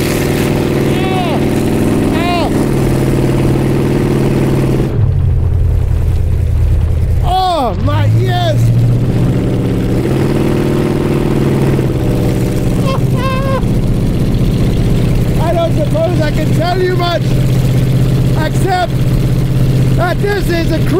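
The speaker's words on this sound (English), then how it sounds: "By that sound of the grunting V8." A loud, deep V8 engine of a 1931 Ford Model A hot rod rumbles steadily throughout, its exhaust grunting and rising in pitch at moments, with a person talking over it on a near-winter morning in Germany.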